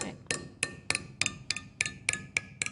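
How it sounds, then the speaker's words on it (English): A hammer strikes work-hardening metal sheet, evenly on both sides, for fold-formed jewelry, about ten crisp, bright metallic taps at an even, brisk rhythm, close and moderately loud with no talk. "Hammer it down."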